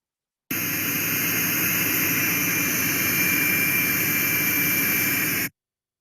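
Compressed air hisses steadily from a truck's pressurised air brake system valve, a loud, unbroken broadband leak that starts abruptly and cuts off about five seconds later.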